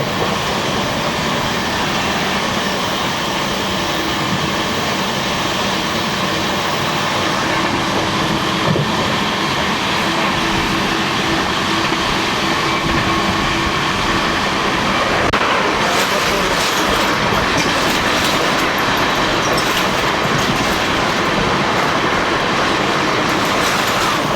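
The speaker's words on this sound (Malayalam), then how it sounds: "കോയമ്പത്തൂരിൽ നിന്ന് മന്നാർഗുഡി വരെ പോകുന്ന സെമ്മൊഴി എക്സ്പ്രസ്സാണ് പറന്നു പോയത്." The Coimbatore–Mannargudi Semmozhi Express rushes past with a continuous loud rumble and wheel clatter that swells into a harsher rush about midway through. No one speaks.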